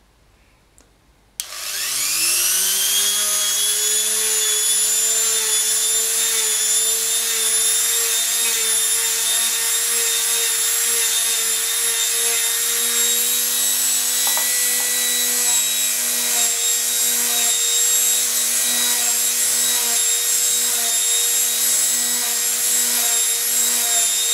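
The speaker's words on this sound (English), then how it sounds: "rotary tool, and this will give it a light buff as well" A rotary tool whirs up to speed and keeps running with a steady, high-pitched whine and a faint rubbing buzz as the buffing wheel lightly buffs a polymer clay coaster.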